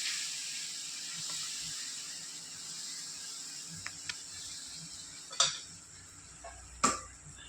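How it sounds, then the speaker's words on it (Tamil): Chickpea dosa batter poured onto a hot dosa griddle gives a steady soft hiss and sizzle, with a few sharp clinks of a ladle or utensil near the end. "ஒரு தோசைக்கல் எடுத்து அடுப்பில் வச்சுருக்கேன். இப்போ ஒரு கரண்டி மாவு எடுத்து அதில் ஊற்றி நல்லா தோசை மாதிரி நல்லா பொருவலாக சுற்றி எடுக்கலாம்"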